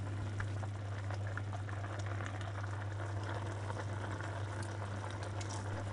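Quince spoon sweet syrup bubbles in a pot, a dense, steady simmer of small pops and fizzing, close and fairly quiet, over a constant low hum.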